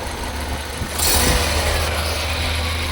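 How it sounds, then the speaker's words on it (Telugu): Hyundai Verna 1.6 SX VTVT petrol car idling at a steady, smooth low rumble, close and continuous, getting a little louder about a second in, with no voices. "బండి ఇంజన్ సౌండ్ వినండి ఫ్రెండ్స్."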